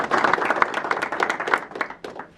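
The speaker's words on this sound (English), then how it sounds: "can we at least have a round of applause for her, even though she's not here?" A crowd at a Connecticut transportation grant announcement for the Derby-Shelton train station gives a short round of applause for Congresswoman DeLauro, with distinct overlapping claps that fade after about two seconds.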